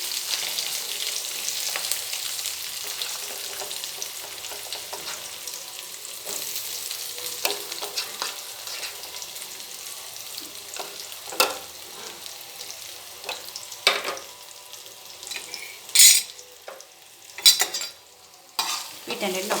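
Onions frying with ginger garlic paste and cumin in a pan, a continuous sizzle with scraping stirs that grow sharper and more frequent toward the end, close and fairly loud with no talking.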